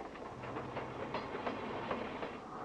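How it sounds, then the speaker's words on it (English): Passenger train cars rolling along the rails with a steady, continuous clatter and rhythmic wheel clicks, loud and close, with no voices. "These are passenger train cars."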